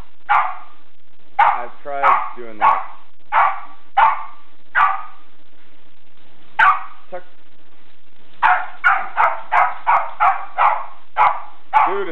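A Silky Terrier barks sharply and repeatedly nearby at an animal-skin rug, in scattered single barks and then a rapid run of barks, with a person speaking briefly in between.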